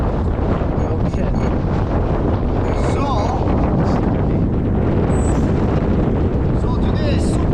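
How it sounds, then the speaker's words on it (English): Strong wind on a very windy day buffets the microphone with constant loud roaring rumble and gusty noise throughout, outdoors near water where a model seaplane is flown. "So today is super windy day"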